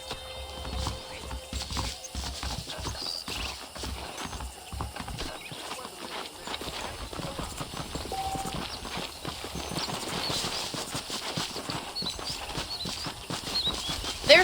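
Continuous clip-clop of saddled horses' hooves at a steady trotting pace runs throughout, fairly soft, blended with a dense background of ambient noise, in the video game Red Dead Redemption.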